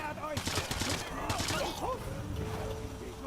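Rapid assault rifle bursts in Sniper Elite 3, a period-era Sten MK2-style weapon, crackling in dense volleys amid game sounds and voices over roughly three seconds.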